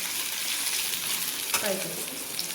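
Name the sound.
boiled chicken liver frying in a pan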